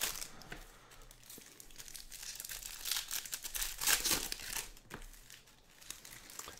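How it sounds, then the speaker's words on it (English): Bowman's Best baseball card packs torn open by hand, a close run of crinkling foil and tearing wrapper with bursts of louder ripping. "I'll rip the packs on this Bowman's Best"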